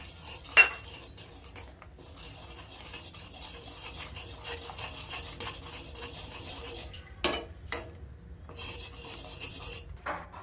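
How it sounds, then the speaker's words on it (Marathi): Milk powder stirred in a pan with a metal spoon for sweet potato barfi, making quiet scraping and clinking strokes with a few sharper knocks against the pan, no voices. "हे मस्त असं हलवून घेऊयात मी स्वतः हलवते"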